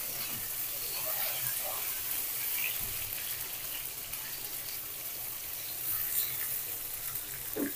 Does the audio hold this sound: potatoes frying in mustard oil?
yes